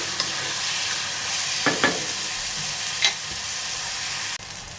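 Tomatoes are sautéed in a pan for Mumbai street-style egg bhurji, with a soft continuous sizzle and a few distinct spatula scrapes and stirs at close range, with no voices.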